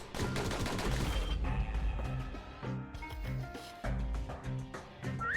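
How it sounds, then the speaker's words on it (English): Rapid pistol fire in the video game Bastion, a quick run of sharp gunshots over a loud, busy game music bed, shots coming in fast bursts with no talking. "Those pistols could spit out rounds just as quick as you could pull the trigger"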